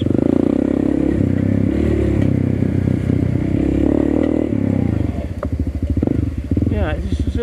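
A CRF301CC dirt bike rides off-road nearby, its engine droning loudly, then breaking into a rapid, pulsing putter as the throttle changes, with rattling and scraping from the rough ground.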